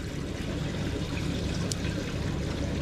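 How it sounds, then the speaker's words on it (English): Spring water poured into an axolotl tank, a steady continuous trickling stream of liquid running for the whole stretch at close range, with no voices over it. "we're going to pour the water around"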